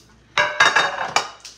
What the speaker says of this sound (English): We're gonna put the glassware over here.